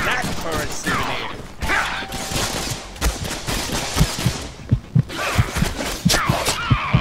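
The player's gun fires in the Deadpool video game: rapid bursts of loud gunshots that build into a steady, rhythmic string of sharp cracks with brief pauses between volleys.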